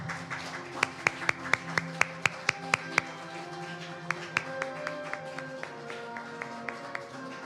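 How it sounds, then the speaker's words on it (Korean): At a Ulsan youth forum, the audience claps as the flag enters the hall. Steady, evenly spaced claps keep a regular beat over sustained background tones, strong at first and then gradually softer. "여러분, 기가 입장할 때 힘찬 박수로 함께해 주시면 감사하겠습니다."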